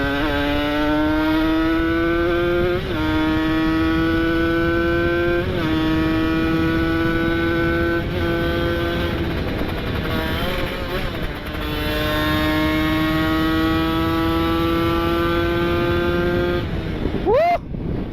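A Kawasaki Ninja RR motorcycle riding on the road, its engine droning steadily and rising in pitch through repeated gear shifts, loud and close with wind rush.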